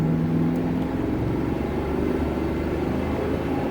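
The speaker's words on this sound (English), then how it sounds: "we're taking the sleeper hot rod Lincoln for a quick spin" A supercharged 1992 Lincoln Mark VII hot rod with a locked rear end and 3.08 gearing drives along with a steady, loud, close engine rumble and road drone, with no talking.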